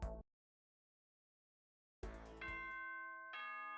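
Doorbell chime from the Danganronpa Trigger Happy Havoc video game: a short burst, then about two seconds of silence, then clear ringing chime tones that sustain and overlap to the end.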